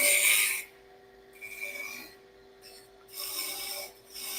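Wood being roughed down with a turning tool on a lathe while shaping a rolling pin, heard as intermittent bursts of scraping and rasping as the tool contacts the spinning blank, separated by quieter pauses.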